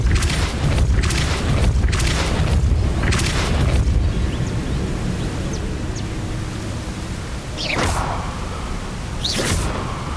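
Repulsor spell blasts in Hogwarts Legacy on Nintendo Switch: several loud, deep whooshing booms in quick succession early on, followed by a lower rumble and two sharper swooshing bursts near the end.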